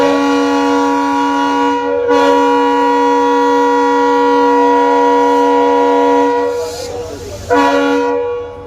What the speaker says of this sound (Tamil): என்ன ஒரு லாங் ஆர்ன.